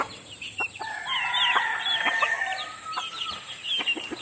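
Several backyard chickens, including a small hen, cluck and squawk close by, with a rooster's crow rising among the busy, overlapping calls.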